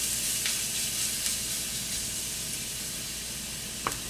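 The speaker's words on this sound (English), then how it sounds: "all I'm going to be doing is adding our chopped onions" Chopped onions frying in heated oil in a skillet, a steady close sizzle and hiss running throughout with a few faint clicks, no voices.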